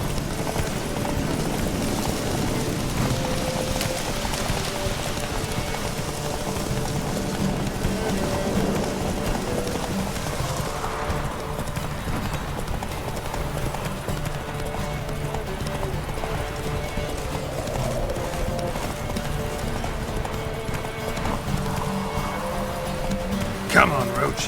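Galloping horse Roach in The Witcher 3, steady rapid hoofbeats pounding continuously and close throughout, with a voice speaking over them and occasional horse snorts.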